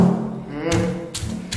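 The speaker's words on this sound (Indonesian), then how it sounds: "Langsung aja kita geprek dulu telurnya sama seperti di thumbnail." A crispy fried egg for geprek gets smashed with three dull, close thumps in quick succession, each with a short crunchy crackle.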